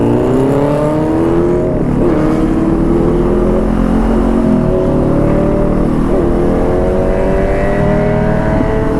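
Kawasaki-style 1000R superbike on a test ride, its engine revving loud and close with rising pitch sweeps and brief dips between gear changes, continuous throughout with no talk.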